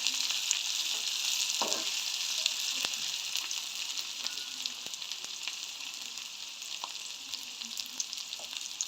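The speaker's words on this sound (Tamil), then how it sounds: "எண்ணெயில் வதக்கி விடுவோம்." Green chillies sautéing in hot oil, a steady close sizzle with occasional faint spatters and light stirring taps throughout.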